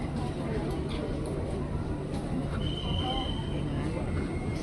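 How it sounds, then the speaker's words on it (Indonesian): A KRL commuter train pulls into Manggarai station with a steady low rumble and faint wheel squeal, while platform hubbub and nearby talking continue over it. "Nah, ini dia nih, akhirnya ada KRL yang masuk nih."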